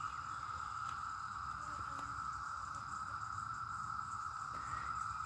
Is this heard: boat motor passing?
no